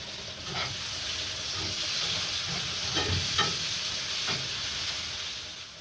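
Mushrooms sizzle in a pan after a little oil is added, a steady frying hiss broken by a few scraping stirs, with no one speaking.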